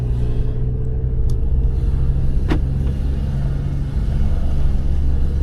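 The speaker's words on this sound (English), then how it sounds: "Typical cars coming, but that's okay." Traffic rumbles past on a road near a mobile mechanic working on a car, a steady low engine drone with a couple of brief swishes as vehicles go by, close and fairly loud throughout.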